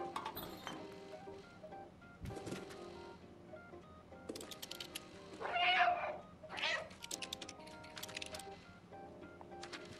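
A cat character meows in the video game Stray, two short mid-pitched meows standing out over game music and ambient clinks, with a few faint background sounds around them.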